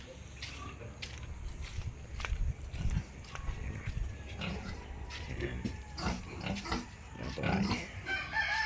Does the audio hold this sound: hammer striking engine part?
no